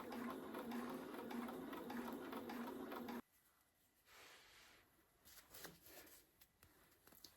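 A Bernina 570 QE sewing machine, run by foot pedal, hums steadily for a few seconds, then stops, leaving faint handling clicks and rustles.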